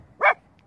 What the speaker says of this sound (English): Dog's very dirty, barking at someone